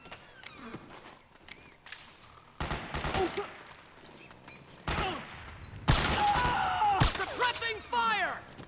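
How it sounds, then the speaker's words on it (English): Gunfire in a Metal Gear Solid 4 battle, with bursts of automatic shots and scattered single cracks coming in loud clusters between quieter stretches, mixed with shouting voices and background battle noise. "Suppressing fire."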